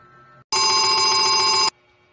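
A single loud, close telephone bell rings in one continuous burst of just over a second, with quiet room tone before and after.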